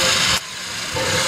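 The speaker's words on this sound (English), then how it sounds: "Building up steam." A steam locomotive building up steam, a steady loud hiss and rumble that drops away briefly and then returns, heard alone without voices.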